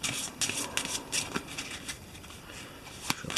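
Eldritch Horror board game cards being shuffled and cut, a quick run of close, crisp riffling flutters and slaps with short pauses between bursts.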